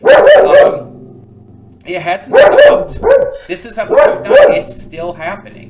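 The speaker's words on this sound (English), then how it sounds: "Sorry about the dog." A dog barks in the background in bursts under a voice, which talks almost continuously over it.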